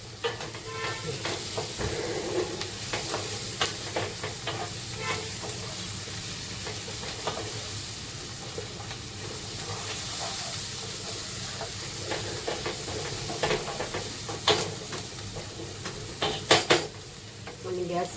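Tomato and onion masala fries in a pan for dried bombil, giving a continuous close sizzle with steady stirring and spoon scrapes, a few sharper clinks near the end, and no talk.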